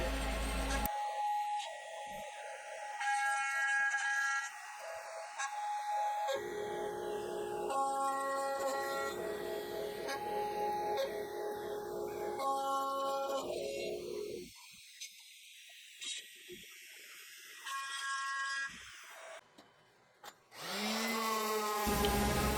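A CNC router cuts the handle and rounds the corners of a woven wooden charcuterie board, giving a loud steady machining whine with shifting pitch sweeps and brief pauses, carrying on alone throughout.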